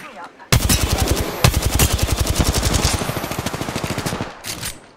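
Rapid automatic gunfire from a weapon in the Apex Legends battle royale game, a fast steady burst of loud close shots running about four seconds, with a few scattered shots at the end and faint voices underneath.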